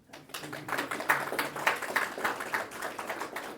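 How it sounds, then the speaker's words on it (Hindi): An audience at a spiritual talk breaks into steady clapping that starts abruptly and carries on evenly, moderately loud, with no voices over it. "ताली तो बजाओ"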